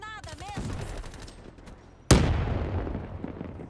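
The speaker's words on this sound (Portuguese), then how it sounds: "É uma arma muito boa, cara. Essa submachine." Submachine gun bursts in the Black Ops 3 game: after a brief musical chirp, a sudden loud volley of rapid gunfire erupts and rings out with a decaying rattling tail.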